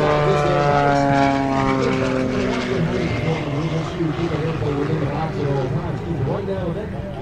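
A Pitts S-2B aerobatic biplane with a 200 horsepower engine flying at an air show at Dover Air Force Base, a loud steady propeller drone with shifting pitch, under an announcer's voice.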